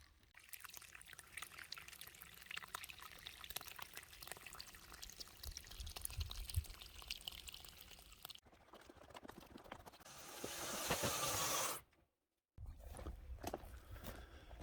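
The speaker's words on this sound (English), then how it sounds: "there is water coming out of a few of the pipes" Water splashes and trickles from a homestead irrigation system's pipes under low pressure, a faint, steady wash with a brief gap partway through and no talk.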